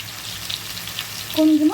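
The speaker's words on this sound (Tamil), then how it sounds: "மஞ்சள்தூள் போட்டு நல்லா வதக்கிக்கலாம்." Mushroom masala with tomato and salt sautés in a pan, giving a short burst of crackling frying hiss at close range before a voice begins at the end.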